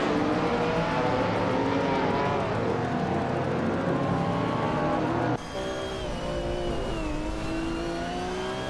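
Race cars from a video game race, including a 1979 Chevrolet Monza, roar at high revs with continuous engine drone, gear shifts and a sudden change of camera or car partway through; loud and steady, no talk.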